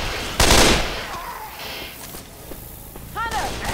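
Gunfire in the Left 4 Dead zombie game comes as a loud burst of rapid shots near the start, then scattered single reports and a high squeal, all under excited voices.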